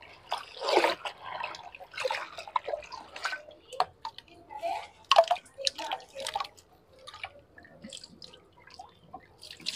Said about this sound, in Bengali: শাকগুলো ধুয়ে নি ভালো করে